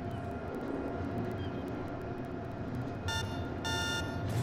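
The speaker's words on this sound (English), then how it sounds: "Has a little horn." A car horn in the Watch Dogs 2 video game gives two short electronic beeps near the end, sounding over a steady hum of game engine and ambient noise.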